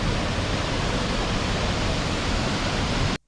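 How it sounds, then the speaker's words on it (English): The 100-foot Rio Celeste waterfall in a Costa Rican rainforest roars as a steady, broadband rush of falling water that fills the clip before cutting off abruptly at the end. "Now, the first stop of this hike is the Rio Celeste waterfall."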